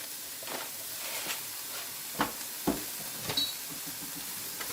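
Minced garlic and black pepper stirred in a hot pan, a steady soft sizzle broken by a few sharp scrapes and clinks of the utensil, close and with no speech.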